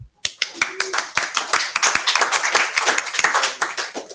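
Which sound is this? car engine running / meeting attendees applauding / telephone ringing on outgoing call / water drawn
meeting attendees applauding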